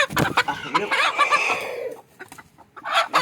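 A broody hen clucks nearby in low, drawn-out, grumbling tones, a few rough calls in a row with brief quieter gaps.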